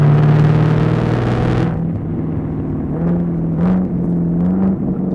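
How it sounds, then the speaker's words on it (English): A supercharged LT4 Camaro ZL1 1LE with an automatic gearbox and loud exhaust drops gears on a canyon run: a loud droning engine, then a sudden fall in pitch and a few quick revving blips as it downshifts. "See how fast it downshifted right there?"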